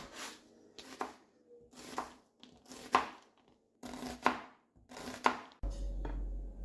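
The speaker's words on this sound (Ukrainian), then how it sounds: "Шаткуємо капусту гострим ножем або на шатківничку, вже як вам буде зручніше." A sharp knife shreds cabbage on a board in rhythmic bursts of slicing strokes, about six close, crisp rounds of cutting with short pauses between, ending in a low thud.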